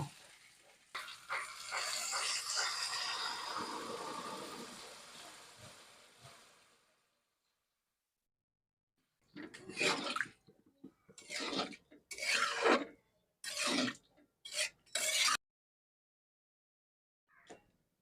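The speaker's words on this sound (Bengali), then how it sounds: "এবারে আমি জল দিয়ে দেব" Water pours into sautéed vegetables for Bengali niramish labra as a steady rushing hiss lasting several seconds and tapering off, followed by a pause and a few short scraping stirs in the pan.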